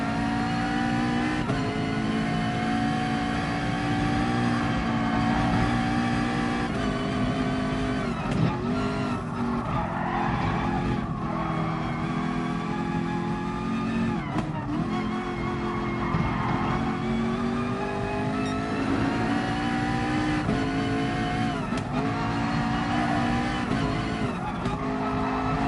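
A McLaren race car in a racing video game drives hard with a continuous loud engine drone that rises and falls through gear changes, tires squealing and skidding through corners, with no talking.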